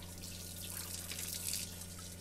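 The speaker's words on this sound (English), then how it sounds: "Takes a while for it to start dripping." Water trickles and drips through a Berkey travel water filter in an RV, a faint, steady watery patter heard close up over a low constant hum.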